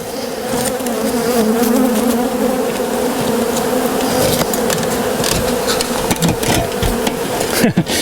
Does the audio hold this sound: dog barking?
no